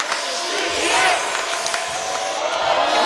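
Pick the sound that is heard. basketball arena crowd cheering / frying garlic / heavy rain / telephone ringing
basketball arena crowd cheering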